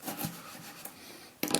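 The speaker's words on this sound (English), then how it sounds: "it is crushing the tomato, but I'm still able to get some really nice thin slices from it with some sawing action" A Sanjia knife saws through a tomato with a soft, close, rubbing rasp, back and forth, and a sharper scraping burst at the end.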